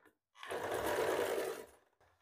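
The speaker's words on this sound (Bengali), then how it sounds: "এবার আমি এই যে হুকের অংশ, হুকের ঘরের অংশ, এখানে কোমর থেকে সেলাই করছি।" Sewing machine stitching the hook section of a garment from the waist, one steady loud run of rapid stitching lasting over a second, then stopping, with no talk.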